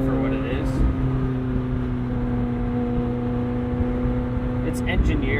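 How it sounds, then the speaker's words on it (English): McLaren 720S Spider twin-turbo V8 exhaust, a steady low droning hum with harmonic tones held evenly throughout, heard from inside the cabin at a constant cruise and fairly loud. "Now, in my opinion, I think the exhaust sounds good for what it is."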